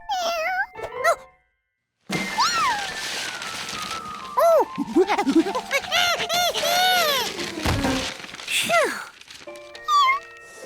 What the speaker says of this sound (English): His job was to watch Professor Wiseman's new kitten, Lucky, who was too young to take care of himself.